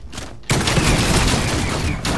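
Shotgun gunfire in Fortnite Zone Wars (creative mode), a pump shotgun in an FNCS-style match, bursting in loud and dense after a quiet half-second and rolling into sustained game combat noise with booming blasts.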